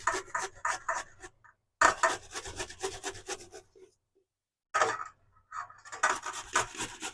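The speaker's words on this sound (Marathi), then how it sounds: "किसून टाकते इथे." Cucumber rasps against a kitchen grater in quick rhythmic strokes, close and clear, in two bursts separated by a short pause.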